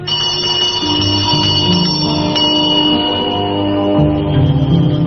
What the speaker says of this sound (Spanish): mientras hace sonar una pequeña campanilla